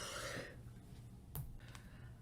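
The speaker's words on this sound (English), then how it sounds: "I need a coughing fit right now." A person clears their throat and coughs during a tarot reading, a soft raspy breath followed by a brief sharp cough-like burst, close and quiet with a low room hum behind.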